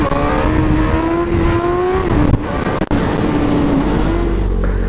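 A motorcycle engine revs hard in first gear before a wheelie, a loud steady high-rpm drone with shifting pitch, a brief dip near the middle, then climbing again.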